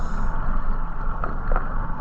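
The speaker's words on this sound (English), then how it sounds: "I forgot that I'd left the boat idling" A boat engine idles at anchor on a reef, a steady low broadband rumble with wind and water noise mixed in, continuous and fairly loud throughout.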